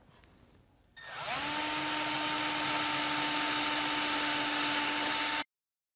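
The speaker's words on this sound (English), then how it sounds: "And we'll install the screws." A power driver spins up and runs steadily for several seconds, driving a screw into a wooden table saw sled, loud and close, then cuts off abruptly.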